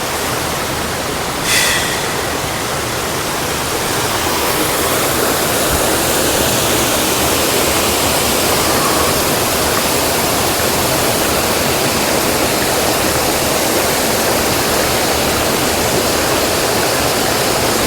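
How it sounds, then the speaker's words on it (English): A jungle waterfall pours in a loud, unbroken roar of falling water, close and steady throughout, with a brief sharp knock near the start and no voices. "we have spotted a beautiful waterfall"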